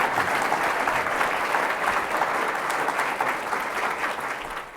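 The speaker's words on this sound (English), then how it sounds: "let's give a big round of applause to Congressman Seth Moulton." Dense, steady applause from a room full of people at a political happy hour evening event, a full roar of clapping that holds, then eases slightly toward the end.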